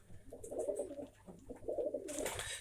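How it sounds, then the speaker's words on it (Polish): Pigeons coo in a loft, a soft low repeated cooing in two or three rounds with faint chirps above, close but quiet, no one talking. "O, to te to są dobre gołębki."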